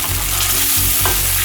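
Beef stroganoff sizzles and bubbles steadily in a hot pan on reduced heat, a close, continuous frying hiss with faint stirring scrapes.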